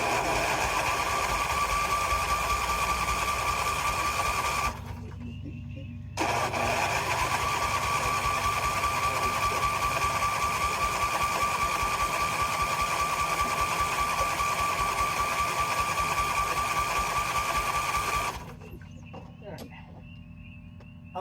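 An old Husqvarna yard tractor engine, left sitting for ten years, cranks with the choke on and full throttle in long, steady, loud churning runs broken by brief pauses.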